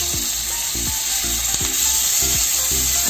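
Potatoes fry in hot oil in a kadai with a loud, continuous sizzle close up, while a low rhythmic thumping repeats every half second or so underneath.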